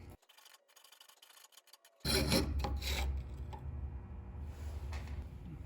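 Aluminum is worked with a hand saw, beginning with faint scattered ticks and then turning loud as a rasping, rubbing cut sets in and carries on close by with no talk.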